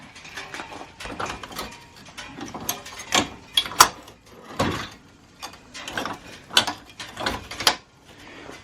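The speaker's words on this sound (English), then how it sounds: "now let's try out the latch here on the cart." A latch on an ATV cart is worked by hand, producing a series of sharp metallic clicks, clunks and ratcheting rattles in irregular bursts, close and alone without speech.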